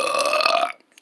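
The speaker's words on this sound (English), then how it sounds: "There go that burping noise again." A single loud, drawn-out burp lasts under a second, close and alone, followed by a brief faint noise.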